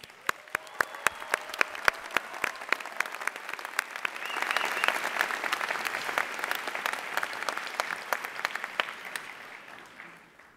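A graduation crowd for illustration graduates breaks into sustained applause, with sharp individual claps standing out early and then merging into a dense, steady roar of clapping that holds for about ten seconds before thinning at the end.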